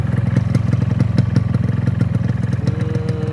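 A 2008 Yamaha RX King two-stroke motorcycle engine revs close by at around 1,000 to 2,000 RPM, its rapid, steady pulsing firing beat loud and rattly throughout, with no voices.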